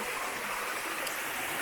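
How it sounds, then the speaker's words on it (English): A river rushes over stones in a Kenyan village, a steady, full, hissing flow that stays close and even without any voices. "So this is how the river is."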